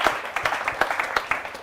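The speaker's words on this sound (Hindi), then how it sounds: "एक बार जोरदार तालियां हो" An audience claps in a brief loose burst of applause, many individual slaps overlapping in a lively uneven patter, fairly close and moderately loud.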